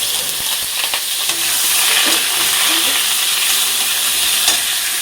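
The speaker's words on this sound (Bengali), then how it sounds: "তেজপাতা, শুকনো লঙ্কা, পাঁচফোড়ন দিলাম সম্বারায়" Bay leaf, dried chilli and five-spice seeds sizzle steadily in hot oil, giving a loud, close, continuous frying hiss with faint crackles, while a spoon stirs now and then.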